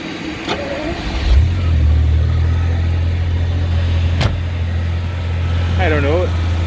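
A 1986 Jaguar XJS-C 5.3 V12 H.E. automatic cranks and catches, settling into a steady, loud low rumble outdoors, with a brief sharp knock partway through and a faint chirping sound near the end.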